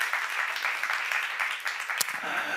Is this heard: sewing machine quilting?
no